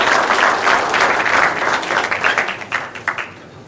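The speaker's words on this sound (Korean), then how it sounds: "박수 한번 치고" Audience applause at a humanities lecture at the Changwon District Court, a loud dense burst of clapping from a crowd indoors that thins out and fades toward the end.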